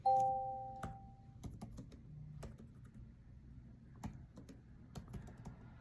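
Scattered keystrokes on a computer keyboard, a few separate clicks and short runs of typing, preceded by a brief two-tone chime at the start.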